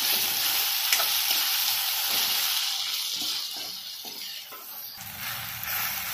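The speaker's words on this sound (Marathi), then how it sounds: "आता हा बारीक केलेला टोमॅटो त्याच्यात टाकायचा, तो पण छान परतून द्यायचा मिळत होईपर्यंत।" Finely chopped tomato sautéing in a pan for chole, a loud continuous sizzle with a rattle of stirring strokes, close up and uninterrupted, with no voices.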